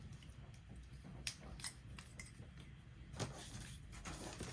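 Scissors being handled at a desk while planning, a few faint snips and metallic clicks scattered over quiet room tone, with small clinks and handling noises between them.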